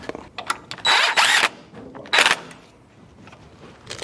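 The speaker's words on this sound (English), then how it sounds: "you pretty much just install your screws" Screws are driven into the hardware of a bi-fold iron door in short, close bursts of power-driver whirring, with a couple of louder spins followed by quieter mechanical rattling and handling.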